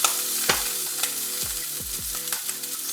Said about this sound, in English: Get the butter moving around here.